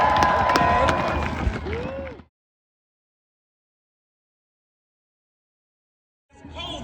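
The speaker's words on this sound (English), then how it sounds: "Y'all can clap for that." A crowd at an outdoor anti-mandate rally clapping and cheering for about two seconds, then cutting to silence before the crowd noise returns briefly at the end.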